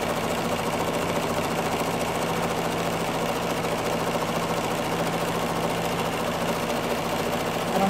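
Sewing machine running fast and steady while stitching an appliqué iris onto a greeting card, a continuous mechanical whir with a fine rapid stitch rhythm, close and alone throughout.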